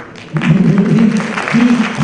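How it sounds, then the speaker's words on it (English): Audience applauding a speaker at a regional cooperation conference, scattered claps over a low voice-like murmur, fairly loud and close. "We should give an applause to our speaker here."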